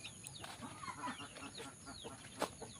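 Chickens cluck softly in a village yard, with a few scattered, fairly faint calls over a low outdoor background and no talking.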